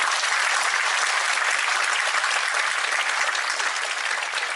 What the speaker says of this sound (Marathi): सगळ्यांनी जोरदार टाळ्या वाजून